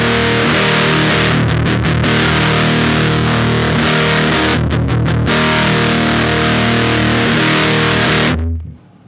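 A loud, distorted electric guitar played continuously through an effects pedal while its bass boost switches from the low to the high setting, with brief choppy tremolo-like stutters partway through.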